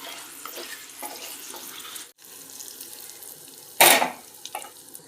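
Hot tempering being poured into a sweet potato chutney. A soft steady crackle is followed by a single loud, sharp hissing burst near the end, with a few small clinks after it.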